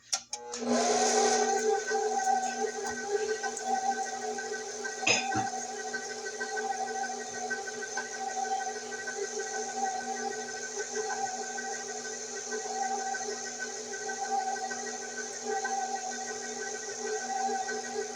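A stand mixer runs on its lowest speed, beating granulated sugar into pound cake batter for a sweet potato cake, a steady whirring hum with a constant tonal whine that holds throughout, close and alone apart from a brief clunk partway.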